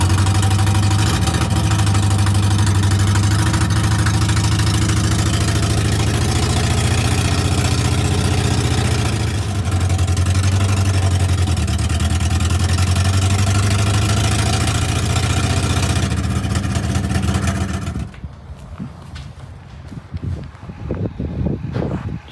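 Barn Sprite car running with the choke pulled fully out, idling steadily with a loud, close, low engine drone for most of the stretch before it cuts out and leaves clattering handling noises.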